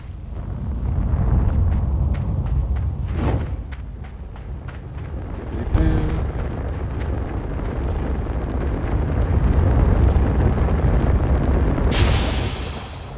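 A burning tire rolling in the dark puzzle game Limbo: a heavy, continuous rumbling roar with crackling bursts and a louder thud midway, sustained and close, with faint voice in places.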